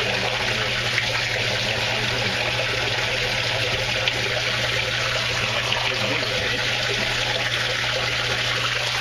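Water from two aquaponics drip systems trickles steadily into a tank, a constant close splashing wash over a low pump hum with no break.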